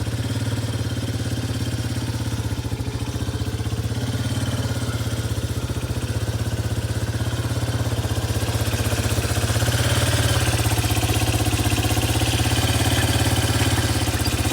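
A Kodiak truck running with a squeal from underneath, a steady close engine rumble with rattly vibration and a faint high squeal riding over it, continuous and without talk.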